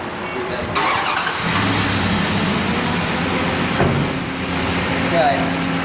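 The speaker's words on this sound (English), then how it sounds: "I started the vehicle" A 2002 Dodge Durango engine cranks and starts, then runs at a steady idle close by with a continuous mechanical hum.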